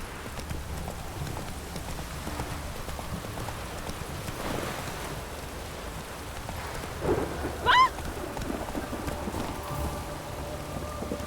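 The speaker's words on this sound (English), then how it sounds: "Like it would rain, and here it is." Steady rain with distant rolling thunder in The Witcher 3, with a horse's hooves clip-clopping underneath and a brief brighter burst near the end.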